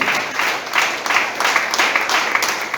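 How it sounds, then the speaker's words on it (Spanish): A church congregation claps loudly in praise during a Spanish-language worship service, a dense, pulsing applause that swells in waves, close and sustained with no talking over it. "Dale un fuerte aplauso al Señor"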